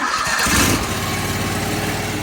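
An AGT KTT23 snow blower engine starts up and runs steadily with throttle applied, a close, loud, continuous mechanical drone with no talking.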